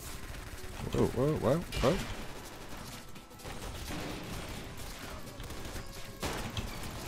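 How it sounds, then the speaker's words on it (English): Crossbow shots in the Roblox shooter Arsenal ring out amid a busy wash of gunfire and game noise, with a startled exclamation over the first seconds. "That crossbow is not quick, by any means."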